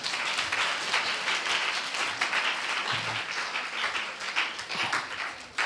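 A church congregation at a New Year service claps together in a steady, dense burst of applause that fills the room for several seconds, with no talk over it.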